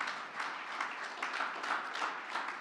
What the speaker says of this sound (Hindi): ताली बजा सकते हो प्रभु के लिए